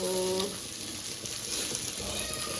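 Fish fries in a pan with a steady, close sizzling hiss that holds evenly throughout, with no voices over it.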